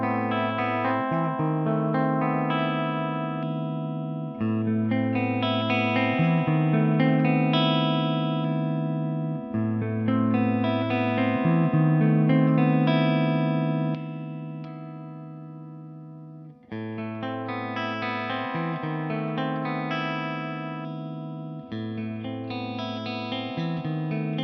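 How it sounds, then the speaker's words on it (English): Clean electric guitar through a Marshall amp plays chordal phrases with a steady, ringing tone, pausing briefly between repeated patterns, no voices. "Let's start hearing the clean tones as before with my Marshall"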